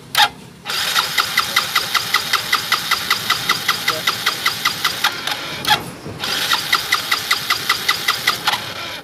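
A motorcycle engine with a fuel injector that keeps spraying cranks and catches, running with a fast rhythmic putter, cuts out briefly, then starts again and keeps chugging loudly nearby.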